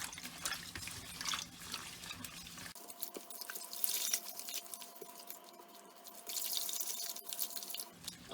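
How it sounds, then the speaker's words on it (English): Rose petals are rinsed under running water, giving a faint trickle and occasional drips close by in a quiet room. "Nicely wash it."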